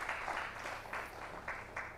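Audience applause at a silver jubilee celebration, a steady wash of many hands clapping with periodic louder surges, sustained throughout the two seconds.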